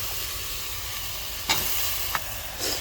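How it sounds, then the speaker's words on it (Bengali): Pieces of bottle gourd going into a hot pot give a steady, close sizzle with a few short hissing bursts as more pieces land, and no one talks. "আমি লাউগুলো আস্তে আস্তে সবগুলো দিয়ে দিব হাঁড়িতে।"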